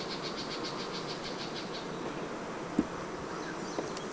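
Honeybees hum steadily around an open hive, a close, even buzz with a single brief knock partway through and no talking.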